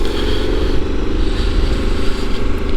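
A motorcycle engine runs close by on a country day ride, a loud, steady rumbling idle with a slightly uneven throb that holds for the whole stretch, with no speech.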